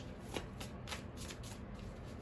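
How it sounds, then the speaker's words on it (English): Tarot cards are shuffled by hand in quick, soft riffling bursts that repeat at a steady pace, quiet and close. "a few more shuffles here"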